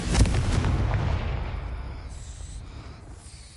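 A Confringo blasting spell in Hogwarts Legacy lands with a sharp, heavy boom, then a rumbling blast that slowly fades out over a few seconds.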